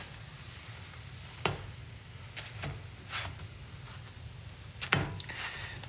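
Eggs cooking in a hot pan for a Bird's Nest breakfast, a low, steady sizzle with a few sharp clicks and taps of a utensil against the pan.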